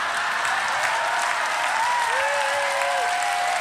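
An audience at a live seminar applauds, a steady dense clapping from a large crowd that continues evenly with a faint voice or cheer rising briefly near the end.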